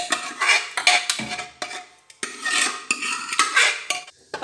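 A spoon stirs and mixes turnip and paneer tadka in a metal pan, scraping and clinking in repeated close strokes with short pauses between.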